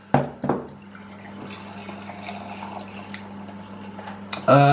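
Warm mulled wine from Aldi trickles steadily into a glass, framed by a couple of sharp clinks at the start and a louder knock at the end.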